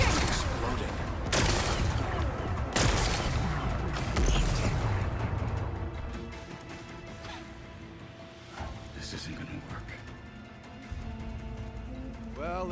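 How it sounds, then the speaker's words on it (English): Explosive blasts breaking rocks in Horizon Forbidden West, a loud rumbling burst of crashes and debris for several seconds, then quieter scattered impacts and rattles as the blast fades. "Gotta blast away some rocks, so I can expose the power cell."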